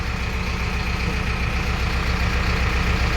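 A heavy diesel backhoe engine (JCB or Bull) idles steadily with a low, even rumble and a faint chugging throb, unchanging throughout.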